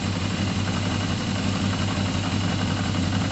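A 40-year-old Yamaha XJ550 Maxim motorcycle engine idles steadily and close by, a smooth, even low rumble holding constant with no voices over it.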